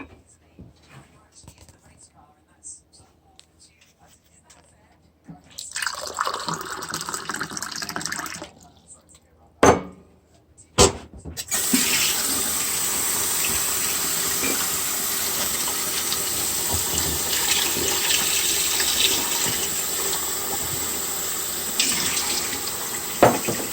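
Tap water runs from a kitchen faucet in a steady broadband hiss that starts, pauses with a couple of clunks, then flows continuously and fairly loud until the end.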